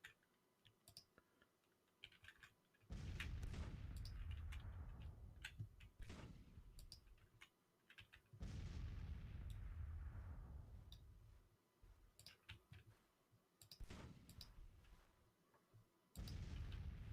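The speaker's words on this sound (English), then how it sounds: "they're trying to brush aside these skirmishers with some artillery fire" Booming artillery fire in the Grand Tactician strategy game, several heavy blasts with long decaying rumbles spaced out among quieter clicking, no talk.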